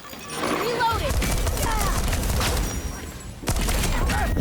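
Dense bursts of gunfire from the video game Deathloop run as a steady clatter beneath a player talking, with a heavier surge of shots near the end.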